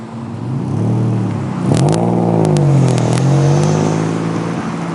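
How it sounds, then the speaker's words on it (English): A car roars away with rising engine revs and a whirring, sliding pitch sweep, loud and close, the tone climbing and shifting as it speeds off; no voices. "The car speeds off into the dimly lit city streets, leaving behind only the echo of screeching tires."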